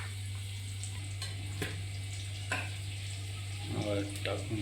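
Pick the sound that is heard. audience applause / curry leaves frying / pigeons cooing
curry leaves frying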